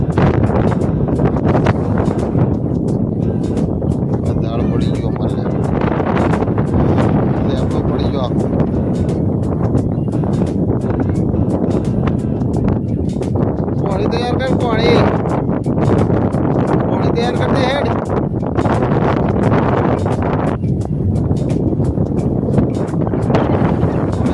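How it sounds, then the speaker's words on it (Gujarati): Steady roaring wind on a rooftop buffets the microphone throughout, loud and constant, with brief faint high whistles now and then. "ઉડી જાય બેટા પવન છે"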